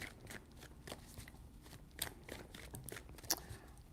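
Tarot cards are shuffled with soft, quick riffling and tapping sounds in uneven bursts, quiet and close, with faint crisp clicks.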